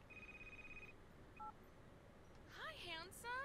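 A phone rings inside the Crimson Snow video game, opening with a steady electronic tone, then short beeps and a warbling ringtone, all heard clearly with no talk over it.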